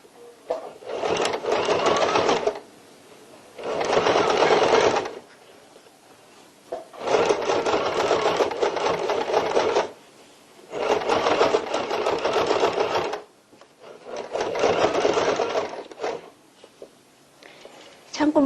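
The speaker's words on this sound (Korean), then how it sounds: "장식 효과도 낼 겸 고정 박음질을 하는 겁니다" A sewing machine stitches a tote bag in five separate runs of steady, fast whirring, each lasting a couple of seconds with short quiet pauses between, close and loud.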